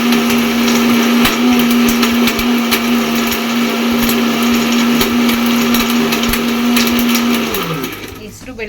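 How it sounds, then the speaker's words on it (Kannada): An electric mixer grinder finely grinding moong dal masala with water, a loud steady whine running continuously before winding down near the end. "ಸ್ವಲ್ಪ ನೀರನ್ನ ಆ್ಯಡ್ ಮಾಡಿಕೊಂಡು ನುಣ್ಣಗೆ ರುಬ್ಕೊಳ್ಳೋಣ"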